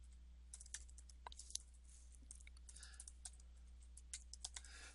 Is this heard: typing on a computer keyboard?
yes